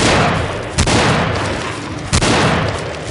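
Two loud, sharp gunshots fire about a second apart in the zombie video game Dead Epidemic, each a close booming crack over a dense, constant background roar.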